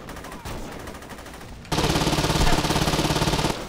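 Missile launcher fire in the Saints Row 2 video game: a sudden loud burst of rapid, rattling blasts that continues steadily for about two seconds after a quieter stretch of game noise.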